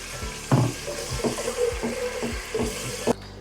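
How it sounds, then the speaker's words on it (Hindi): Water added to a pot of chickpeas cooking for Lahori chanay, a steady close pour with several knocking, bubbling pulses over a few seconds. "मैं दोबारा से इसमें अब पानी ऐड करूँगी थोड़ा सा।"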